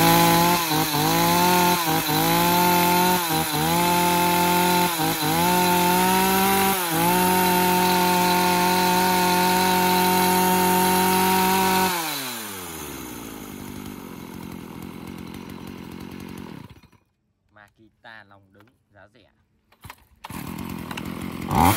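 A used Japanese M1 chainsaw runs loud and close with a steady buzzing drone and several quick throttle dips, then winds down, cuts out and falls to near silence with a few faint clicks.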